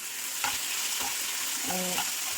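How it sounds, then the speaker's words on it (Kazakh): Chicken breast frying in a small amount of oil in a pan, giving a steady close sizzle broken by brief scraping stirs. "Қазір бірінші кішкене маймен тауық етін қуырып аламыз."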